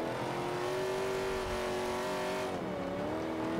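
A 1970 Z28 Camaro V8 in the Forza 5 racing game, engine note holding a steady loud drone with a smooth throttle, then dipping and rising again as it eases through a corner, no talk over it.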